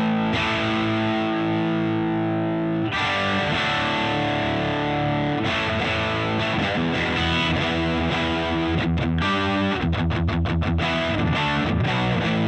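An electric guitar played through a Marshall Murder One Lemmy Signature amp rings out loud and heavily distorted, with sustained chords and then faster choppy strummed bursts, no voices.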